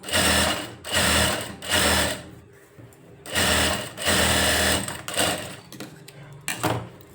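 A sewing machine runs in several loud, close bursts while stitching a lined blouse, with brief pauses between runs and a few shorter, choppier runs at the end.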